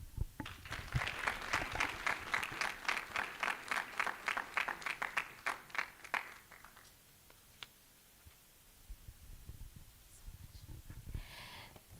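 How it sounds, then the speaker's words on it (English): Rhythmic clapping at a conference, fairly quiet and sounding like a small group, with crisp, evenly spaced claps for about six seconds before fading into faint room noise and scattered rustles. "Another round of applause, please."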